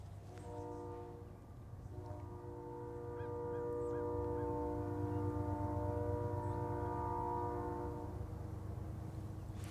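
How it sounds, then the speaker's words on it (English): A distant train sounds a long, drawn-out horn chord over a low rumble of rolling wagons, steady and moderately faint in open outdoor air. "I like the sound of trains in the distance."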